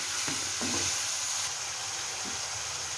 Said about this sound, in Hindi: ये आहिस्ता आहिस्ता फ्राई हो रहा है